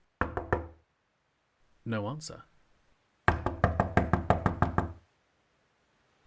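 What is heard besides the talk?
knocking on a door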